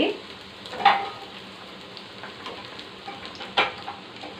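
Chicken pieces coated with salt, chili powder and turmeric fry in a hot pan, giving a soft, steady sizzle with a couple of sharper crackles or stirring scrapes near the start and end.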